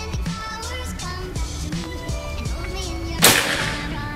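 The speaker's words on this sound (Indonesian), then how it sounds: "Ini tembakan yang pertama." A single sharp shot from a Predator OD38 PCP air rifle during an accuracy test comes near the end. The crack is abrupt and close, heard over a low, steady background.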